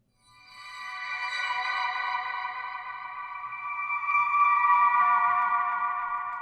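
Ambient synth sweep accents treated with EQ, reverb and delay, a bright shimmering tone that fades in, holds and swells again, smooth and echoing with no voices.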